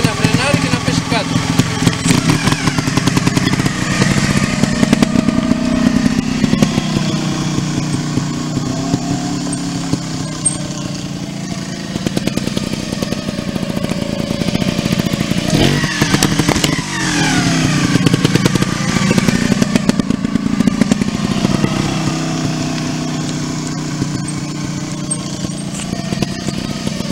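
A trial motorcycle engine runs steadily up close, revving and idling with clattering mechanical noise throughout, rising and falling in pitch.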